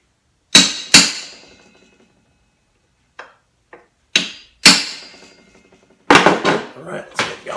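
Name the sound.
hammer striking a center punch on metal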